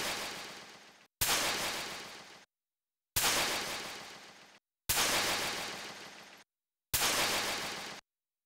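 Five identical granular impact hits built in Ableton Live, each a loud full-range burst that decays over about a second, separated by dead silence in an even rhythm.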